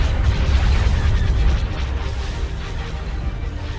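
Starship batteries firing in a Star Wars: Empire at War space battle mod, dense overlapping booms and bursts under a heavy rumbling bed, loud and continuous.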